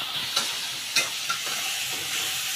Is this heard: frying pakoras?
yes